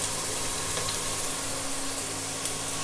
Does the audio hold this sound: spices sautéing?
yes